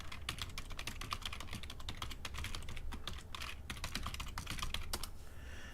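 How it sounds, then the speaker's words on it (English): Computer keyboard typing as an email address is entered, a quick uneven patter of soft key clicks, close and fairly quiet, with no talk. "Anthony, I'm going to type it out here for you."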